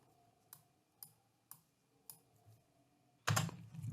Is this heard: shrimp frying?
no